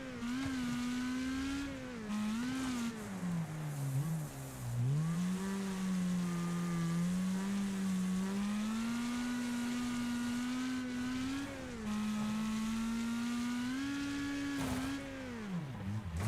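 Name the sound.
cars racing in the video game Wreckfest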